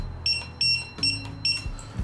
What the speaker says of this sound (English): Alarm's off, we don't need that screaming in our ears.